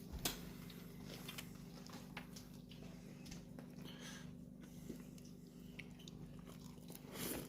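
A quick bite into a cooked burger, with soft crunching and chewing noises close to the mic, quiet and intermittent over faint background hiss, with no talking.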